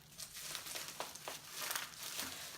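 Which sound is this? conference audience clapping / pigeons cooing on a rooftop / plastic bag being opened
plastic bag being opened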